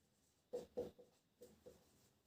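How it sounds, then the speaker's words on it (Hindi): Chalk or pen strokes on a board in a classroom come as a few short, faint scratchy bursts in two quick groups, with quiet gaps between them. "अब यहाँ पर लिखेंगे हम लोग"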